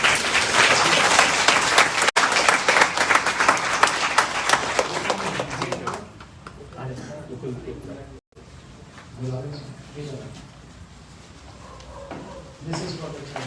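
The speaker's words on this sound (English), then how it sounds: "One clapping for them." An audience at an Ekadasi program in a Gaudiya Matha temple in Faridabad, India, applauds with loud, dense clapping for about six seconds, then the clapping fades and people talk over a quieter room.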